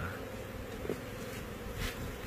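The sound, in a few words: bees buzzing around a queen bee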